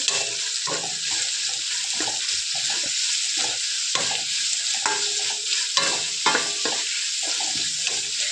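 Curry leaves fry in hot oil in a pan with a steady hissing sizzle, interrupted by repeated scraping stirs and clatter at close range.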